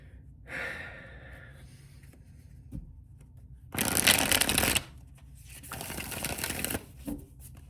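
A tarot card deck is shuffled by hand in several bursts of crisp riffling, with quiet pauses and soft breathing between them, close and moderately loud.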